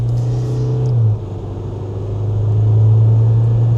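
A 2026 Isuzu MU-X with the new 2.2L diesel accelerates hard through its eight-speed automatic, a loud close engine drone that dips briefly at a gear change around one second and then climbs again, with no voices.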